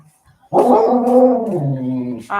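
A dog vocalizes close by in one long, drawn-out howling whine for about two seconds, then starts a short second cry at the end; no one talks over it.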